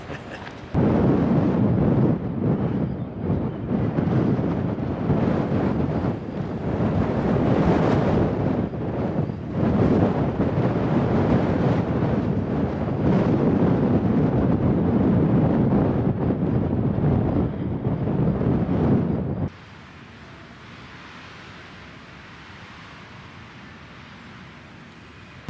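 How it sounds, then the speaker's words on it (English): Strong wind in a wind farm area on the Pacific Crest Trail roars and buffets the microphone in a loud, continuous rush, then drops abruptly to a much quieter hiss near the end. "we're in the middle of windmill zone, so it's windy"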